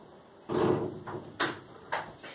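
A house door opened to let cats out, with a knock and rattling bump followed by a few sharp clacks of the latch and frame, close and fairly loud in a quiet room.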